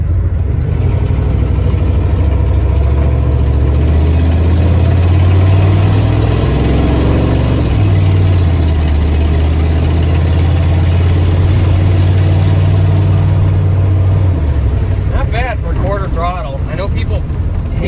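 A diesel Ford F-250 truck that sat unused for years runs with a loud, steady low engine drone, shifting pitch slightly as it idles, while a person talks over it.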